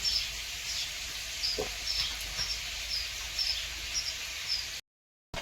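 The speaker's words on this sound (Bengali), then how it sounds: "ওদিকে আলু ভাজা হচ্ছে" Potatoes frying in a pan at a home cooking spot in the Sundarbans, giving a steady, moderately faint broadband sizzle with light scattered crackles, running continuously before a brief dropout near the end.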